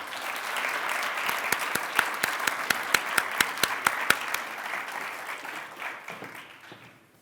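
An audience applauds steadily to welcome student keynote speaker Andre Lewis at a university Martin Luther King Jr. celebration, with sharp individual claps standing out before the clapping thins and fades away.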